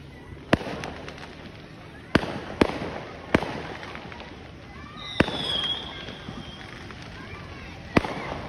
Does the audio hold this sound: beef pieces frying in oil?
no